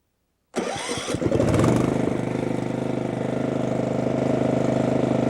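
A Tecumseh small engine starts abruptly after silence, pulls hard, then runs at a steady high speed around 3,300 RPM with a buzzing, rapidly pulsing exhaust note, close and continuous.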